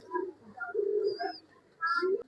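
Dhooma pigeon cooing in soft, rounded bursts, several low coos spread across the moment with brief chirpy notes between, fairly close and clear.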